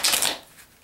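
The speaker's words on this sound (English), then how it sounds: "you can have the cards riffle shuffled." A quick riffle shuffle of a regular deck of playing cards, a short, close burst of crisp fluttering card snaps that fades within half a second.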